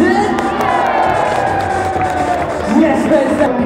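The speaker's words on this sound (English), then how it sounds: "If you wouldn't mind giving a blisterous and rapturous round of applause" A crowd cheers and shouts at a BMX and trials bike show, a loud, continuous roar of voices with whoops rising near the end while an announcer talks over it.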